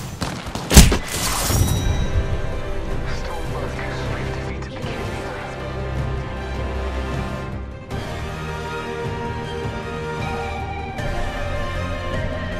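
Gunfire in Apex Legends during the final squad fight: a sharp loud burst of shots near the start, then a dense, continuous barrage of battle noise, thuds and impacts with voices mixed in.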